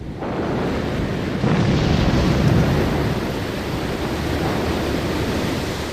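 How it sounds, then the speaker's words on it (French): Atlantic Ocean waves crash in a continuous, loud roar of surf that swells slightly midway, with dense rushing wash and no voices. "L'océan Atlantique est dans une telle fureur qu'il semble impossible de continuer à être battu ainsi par les vagues"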